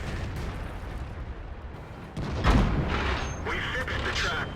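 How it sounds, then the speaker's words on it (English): Artillery shells firing and exploding in a tank video game replay, a muffled boom landing midway and rumbling on, with someone commentating over the mix. "damn, artillery."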